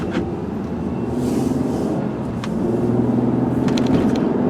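A tan 2002 Ford Taurus S front-wheel-drive wagon pulls away, its engine a low steady rumble that rises slightly as it gets moving, heard from inside with no talking.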